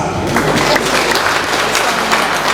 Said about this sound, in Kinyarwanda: mukomere amashyi Tomasi